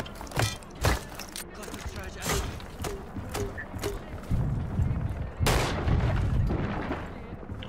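Rainbow Six Siege gunfire rings out as sharp, loud shots and booming thuds scattered across the clip, some clustered in bursts, with players talking over the action.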